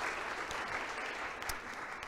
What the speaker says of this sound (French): Vous pouvez applaudir Laurence Contarazus, Axel Rebarga et Dr Myriam Combe.